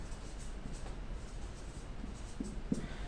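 Pen scratching across paper while writing out a physics equation, soft continuous strokes with a few small taps, quiet and close with no talking.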